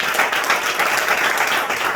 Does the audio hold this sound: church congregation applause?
yes